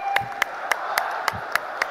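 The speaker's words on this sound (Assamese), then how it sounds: "সকলোৱে এবাৰ থিয় হৈ তেখেতৰ কাৰণে এটা হাত চাপৰি 2 মিনিট সময় এটা হাত চাপৰি বজাব সকলোৱে জোৰদাৰ" Audience applause for Amit Shah at a political welcome event, heard as a steady wash of clapping with sharper periodic claps recurring roughly every quarter second, moderately loud and continuous throughout.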